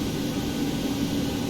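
Boeing 737-800 jet engines run steadily just after start in the X-Plane 11 flight simulator, a constant broadband roar and hum with no change in level and no speech.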